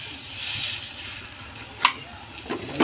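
Food frying in a pan as it is flipped to cook both sides makes a soft, continuous sizzle, with a few sharp utensil clinks near the end and no voices.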